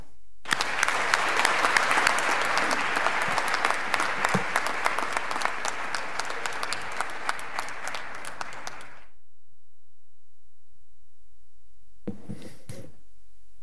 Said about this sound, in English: Audience, you may now applaud.